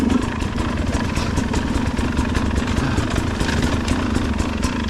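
Steady motorcycle engine running continuously at close range during a training ride, a constant mid-to-low rumble with no talk over it.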